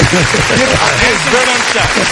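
Loud applause bursts out for a guest on The Combat Jack Show, a dense wash of clapping heard underneath talking voices that continue throughout.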